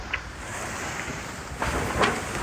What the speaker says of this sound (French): La mer est bien agitée parce que le vent forcit